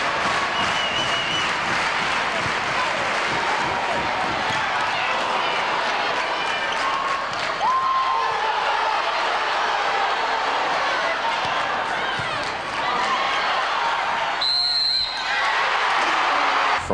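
Gym crowd at a college volleyball match, Nebraska Huskers against the South Carolina Gamecocks, roaring and clapping steadily throughout with faint voices mixed into the din.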